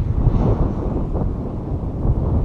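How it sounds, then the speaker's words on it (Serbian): Moderate wind while lure fishing over water about seven to eight metres deep, a continuous low buffeting rumble across the microphone with no talk. "Duva vetar, ali nije preterano jak."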